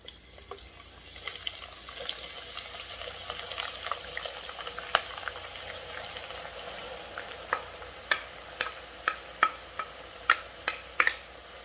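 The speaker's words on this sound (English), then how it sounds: "Now we are gonna deep fry our" Onions deep frying in hot oil for jeow bong give off a steady, close sizzle, with sharp spattering pops that grow louder and more frequent toward the end.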